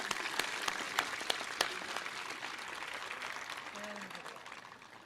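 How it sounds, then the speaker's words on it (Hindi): Steady applause from a crowd at a cabinet gathering, moderately distant and soft, with a few sharper individual claps standing out near the start and a voice faintly audible beneath. "तालियां तालियां।"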